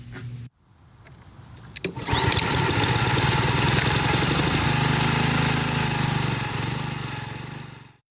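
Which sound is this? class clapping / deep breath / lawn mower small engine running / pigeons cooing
lawn mower small engine running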